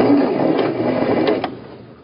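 A sewing machine back stitches through a tote bag, a close, loud mechanical whir with a rapid needle rhythm that slows and fades near the end, with no voices.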